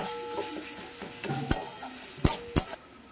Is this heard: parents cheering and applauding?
no